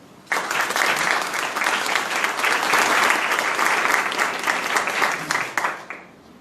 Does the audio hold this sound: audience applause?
yes